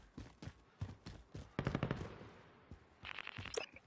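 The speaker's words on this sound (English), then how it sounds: "I heard gunshots to the southeast." Bursts of rapid gunfire crackle at a moderate distance in the video game Call of Duty: Warzone, several quick volleys in a row with a brief lull before a final flurry.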